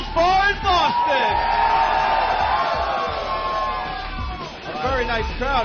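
A bar crowd at a live radio broadcast in Boston cheers and whoops, loud and close, swelling and dipping over several seconds with a brief lull before rising again.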